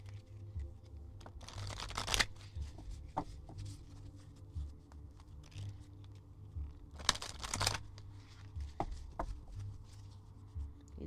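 Divine guidance oracle cards are shuffled in two quick, crisp riffling bursts several seconds apart, close and fairly quiet, with faint taps and rustles in between.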